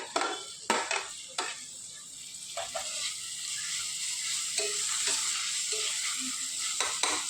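Tomatoes go into a hot pan for South Indian style crab masala, sizzling steadily while a metal spoon clanks and scrapes against the pan in sharp intermittent strokes.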